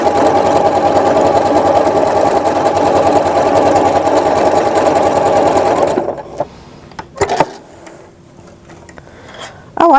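A sewing machine stitches decorative built-in heart patterns on fabric, a loud, close, rapid steady whirring and clatter for about six seconds. It then stops, leaving a few scattered handling clicks and thumps.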